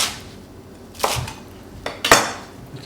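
Wild rocket roughly chopped on a board, a few sharp knife knocks spaced about a second apart, close and fairly loud with quiet between strikes.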